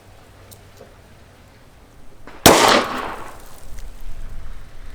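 One loud, close revolver shot from a 3-inch Kimber K6s firing Federal Punch 120-grain .38 Special +P at 7 yards, a sharp crack with a brief decay over low background rumble and no speech.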